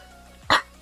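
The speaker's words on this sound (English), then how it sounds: "Oh god, the coughing started." One short, harsh cough, loud and close, in an otherwise quiet moment.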